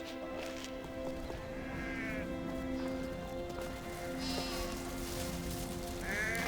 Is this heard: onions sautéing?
no